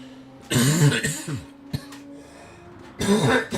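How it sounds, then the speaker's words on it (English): Two bursts of harsh coughing, close and loud, separated by a short pause with a faint click in between. "Apologies for the cough, of course."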